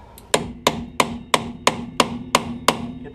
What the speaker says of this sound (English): Then just take a hammer,